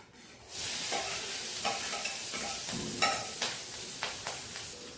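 Chopped green chillies hit hot oil already tempered with mustard seeds, cumin, fenugreek seeds and asafoetida, giving a steady close sizzle with occasional sharp clicks and scrapes of a stirring spoon, no voices.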